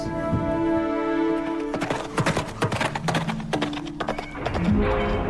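Horse hooves clip-clop in the intro of the Star Stable video game, a quick run of sharp rhythmic hoof strikes heard through the middle of the passage under sustained orchestral music, with no talk.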